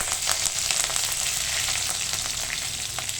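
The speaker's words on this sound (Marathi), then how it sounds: "हे सर्व कडकडल्याच्या नंतर त्यामध्ये देऊ हिरवी मिरची टाकून" Green chilies fry in a hot tempering of cumin and mustard seeds for a Maharashtrian dish, a close, steady sizzle with sharp crackles and pops throughout.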